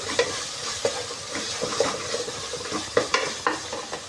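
Ginger garlic paste fries in a pan for a fish biryani, a close sizzle under frequent spatula stirs and sharp metallic scrapes and taps against the pan.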